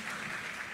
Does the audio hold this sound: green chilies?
no